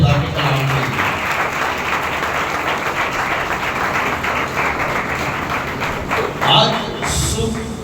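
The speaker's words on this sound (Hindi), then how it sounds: "आए जोरदार तालियां बजाएं खुदा के कलाम के लिए।" Loud, continuous applause from a congregation at a Sunday service, many hands clapping at once and close by, with a few brief voices near the end.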